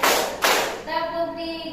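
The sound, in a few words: rhythmic hand clapping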